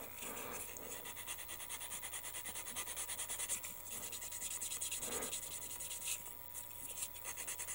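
A sander works over glued wood with fast, rhythmic rubbing and scraping strokes, close and fairly quiet, continuing steadily throughout.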